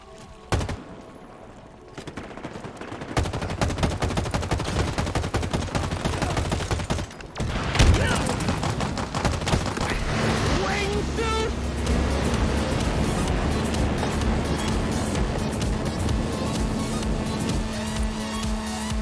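Video game gunfire played back through Shure SRH840A headphones: dense, sustained bursts of shots and rumbling explosions with a heavy low end, continuing steadily without talk.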